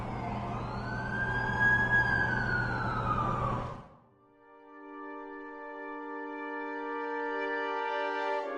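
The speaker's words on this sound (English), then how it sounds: "That's the ambulance I called." An ambulance siren wails in rising and falling sweeps, fairly distant, then cuts off abruptly and gives way to a steady, sustained tonal hum.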